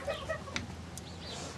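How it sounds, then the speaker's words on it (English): Chickens cluck and murmur inside a wire-fenced chicken coop, moderately close, over a steady hiss of background noise with no clear speech. "It's a chicken"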